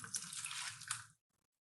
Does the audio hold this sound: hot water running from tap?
yes